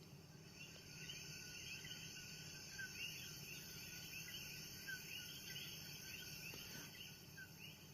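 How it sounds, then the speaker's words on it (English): Coqui frogs calling at night in Puerto Rico, a dense chorus of repeated high chirps over steady insect-like buzzing, continuous and moderately distant with no talk. "that is el coqui. That is the coqui. That is the frog."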